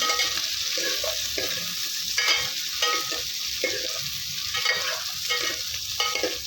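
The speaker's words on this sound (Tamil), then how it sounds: "இது எண்ணெயிலேயே வந்து ஒரு ஒரு நிமிஷம் வதக்கி விட்டுருங்க" Drumsticks and brinjal sautéing in hot oil for a village-style karamani kuzhambu, a steady close sizzle broken by repeated scraping stirs of a spoon against the pan.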